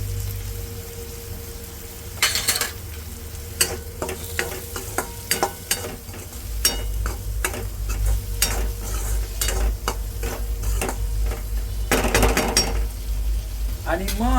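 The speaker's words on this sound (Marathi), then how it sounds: "आणि ते देखील चॉप करून आपण मिक्स करून घेऊया." Chopped chillies stirred into ragda gravy for street-style Mumbai ragda pattice, with steady frying sizzle under repeated spoon scrapes and clinks against the pan, brief talk in between.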